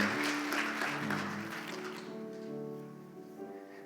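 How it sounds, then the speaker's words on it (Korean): A church congregation gives a round of applause to welcome a visiting family. The clapping is soft and moderately distant, then fades after about two seconds into sustained, hum-like tones. "한번 일어나시면 큰 박수로 우리 환영하겠습니다"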